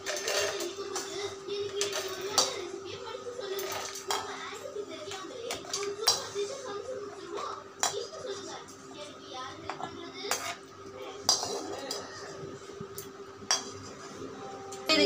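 Dishes and utensils clink and clatter repeatedly in sharp, irregular knocks as ingredients are transferred into a mixer jar, with a quiet voice speaking in between.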